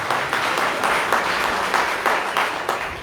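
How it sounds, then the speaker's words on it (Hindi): Audience applause sends off a young performer at a singing competition in a Vishnu Laxmi Narayan temple in Savusavu, a dense, steady wash of clapping through the whole stretch with no voices over it. "चले जोरदार ताली से हम इस युवा कलाकार को विदा देते हैं।"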